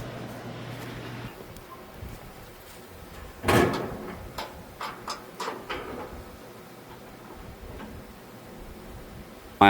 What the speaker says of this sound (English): I'm going to close the door so I don't get totally smoked out.